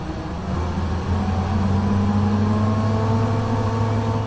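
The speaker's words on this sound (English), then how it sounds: "If you listen for the winding up of the engine there when it starts to go." Tractor engine in Farming Simulator 15 winding up as the vehicle starts to move: a steady low hum with rising tonal whine, moderately loud and unbroken, with no talking.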